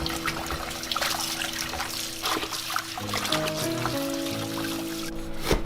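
Water trickles and splashes steadily while soaked dried mustard greens are rinsed by hand, with faint handling noises and soft background music underneath.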